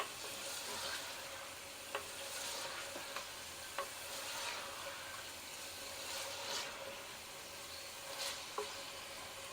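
Steady sizzle of chicken gizzards and liver frying in a pan with occasional scrapes and clicks of a spoon stirring, close and continuous, no voices.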